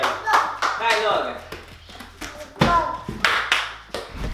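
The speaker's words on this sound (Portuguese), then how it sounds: "Muito bem, ela bate palmas." A baby girl claps her hands several times in a series of soft, irregular pats at close range, mixed with adult talk throughout.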